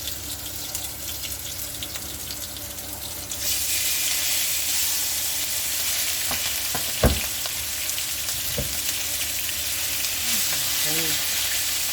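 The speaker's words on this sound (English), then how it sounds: "this is the first batch of prawns we are frying for about 5 minutes" Prawns sizzle and crackle steadily in a hot pan, growing louder partway through, with a few clinks and knocks.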